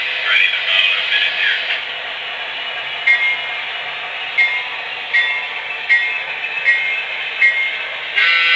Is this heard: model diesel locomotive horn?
yes